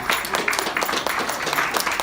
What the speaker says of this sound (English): So I'd like you to clap yourselves because you do an amazing job.